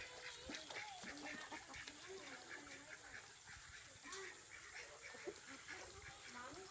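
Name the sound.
ducks quacking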